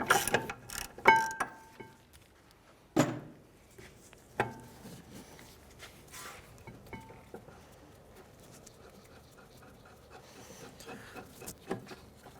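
A ratchet loosening the parking brake bracket bolt on a 2007–2013 Acura MDX, sharp metallic clicks and knocks in scattered bursts, a few loud, then quieter rattling clicks of the bracket in a quiet workshop.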